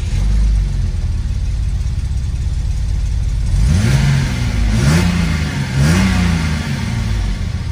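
A warmed-up Mercedes-Benz 280SL engine idles steadily, then is revved three times in quick succession, each rise and fall of the engine clear and close, with no talking.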